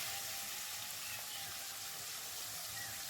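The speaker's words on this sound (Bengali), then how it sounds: "এরকম করে মাছগুলো ভেজে নেব" A soft, continuous hiss of freshwater fish sizzling steadily in frying oil, quiet and even, with no voices.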